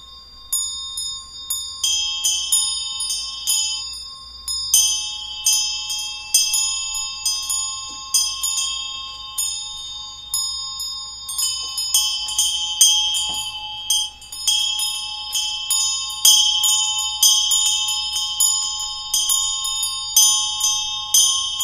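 Metal bells or a gong rung during a Tibetan Buddhist Chod ritual, a long series of bright ringing strikes with sustained shimmering overtones, struck again and again at irregular intervals, clear and close with no talk.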